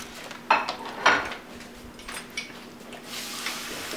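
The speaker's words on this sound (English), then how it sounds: "My mom's doing dishes right in the middle of my video." Dishes being washed in a home kitchen in the background: clinks and clatters of plates and cutlery, two louder knocks followed by softer scattered rattles and running-water hiss, moderately distant.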